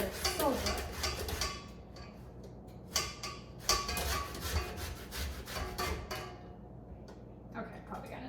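An orange being zested on a grater for cranberry white chocolate chip cookies gives close, repeated rasping strokes, scratchy bursts with short pauses between them.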